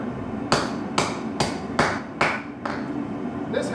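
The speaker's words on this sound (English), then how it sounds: "Now, where is Red's hammer?" A hand-made blacksmith hammer strikes metal about seven times in a steady rhythm, each blow loud, close and ringing, at a forge where Viking arm rings are being made.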